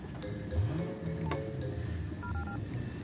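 A few soft tonal beeps of a cell phone being dialed, faint and close, over a low steady room hum in a Batman film scene, with a brief click near the middle.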